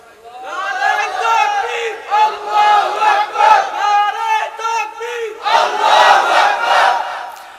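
A large crowd at an Islamic sermon gathering in Sylhet roars a takbir in unison, loud chanted shouts rising and falling in several waves, with no break into quiet.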